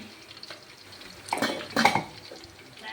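Bitter gourd frying in oil and stirred with a utensil: two brief bursts of metal scraping and clinking against the pan over a faint, low sizzle.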